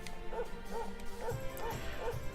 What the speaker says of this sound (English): Barking isn't gonna do it, Sandy.